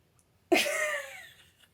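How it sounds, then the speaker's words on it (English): A person on a podcast catches a sudden, sharp, sneeze-like burst of breath after a near-silent pause; it fades out over about a second. "I felt like I was about to sneeze"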